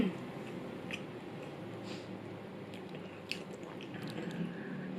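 Someone chews a newly released 7-Eleven snack with a soft filling, producing close, moist squishing and small bites over a steady low background with no clear words.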